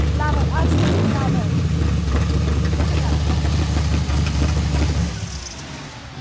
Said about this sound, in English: When you hear a motor like that coming from such a small hot rod, it just sounds brilliant.